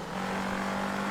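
A rally car engine in Art of Rally holds a steady, high rev, a quiet, even buzzing drone with no change in pitch.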